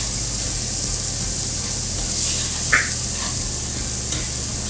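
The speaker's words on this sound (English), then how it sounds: "you're just going to cook the onions until they're sauteed or soft" Onions sauté in leftover bacon grease under a steady broad sizzle with a low background hum, plus one brief scrape of tongs partway through.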